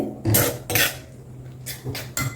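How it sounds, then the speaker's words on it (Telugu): A metal spoon scrapes and clinks against a pot while stirring a semiya and milk mixture for milk ice cream, a few loud close strokes with short pauses between. "ఇదిగోండి ఇలా చక్కగా లంప్స్ లేకుండా కలిపేసేయండి"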